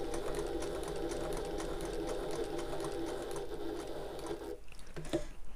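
A sewing machine stitches steadily around the corner of a tote bag, a continuous close mechanical whirr that stops near the end, followed by a few small clicks and handling noises.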